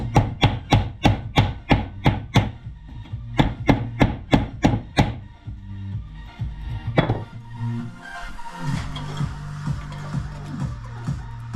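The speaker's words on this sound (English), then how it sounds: "now I'm going to need a hammer there, straighten that out a touch" A hammer strikes sheet metal while straightening a weld patch on a Holden Torana, a rapid steady run of sharp blows, a brief pause, then a few more hits, loud and close.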